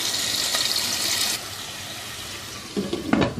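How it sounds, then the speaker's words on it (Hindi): A cup of water splashes and gushes as it's poured into a pot of frying chicken korma, a steady rush that cuts off, followed by a few bubbling, sloshing sounds nearby. "एक कप पानी का शामिल कर देंगे।"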